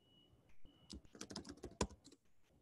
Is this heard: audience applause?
no